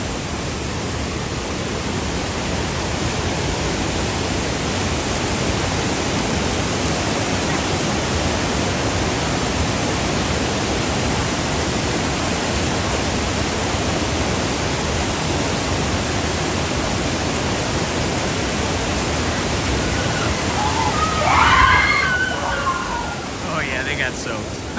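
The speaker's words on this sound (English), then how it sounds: "You can hear the rush of the water." A Disneyland waterfall rushes steadily as a loud, unbroken roar of falling water heard from a nearby bridge, with faint voices rising briefly near the end.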